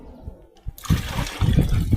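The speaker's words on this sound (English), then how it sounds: "I'm going to be adding water." A bucket of fresh water is poured over kitchen scraps, starting as a brief quiet moment and then turning into a loud, close, continuous gush and splash.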